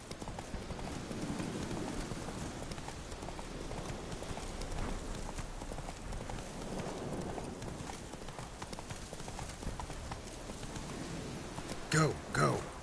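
Roach the horse gallops in The Witcher 3, with steady rhythmic clip-clop hoofbeats running throughout at moderate level, and a brief vocal sound near the end.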